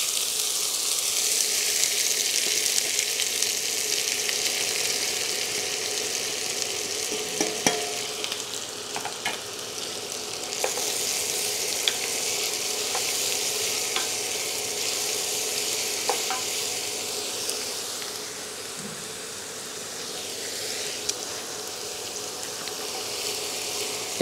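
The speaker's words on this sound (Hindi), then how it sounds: "कड़छी चलाते रहते हैं और प्याज को धीरे धीरे भूनते रहते हैं।" Onions frying in hot oil in a pan while a ladle stirs them steadily, a continuous close sizzle with occasional scraping clicks, for a jackfruit dry curry.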